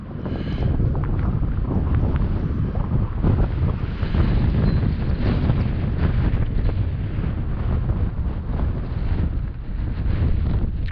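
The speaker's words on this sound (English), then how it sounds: "Oh man, that wind is getting horrible." Strong wind buffets the microphone during an FPV drone flight, a constant loud rumbling roar with gusty surges that run through the whole stretch and drown out everything else.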